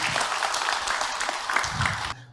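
An audience at an Indonesian Ramadan religious talk claps briskly together, a dense close round that cuts off sharply near the end.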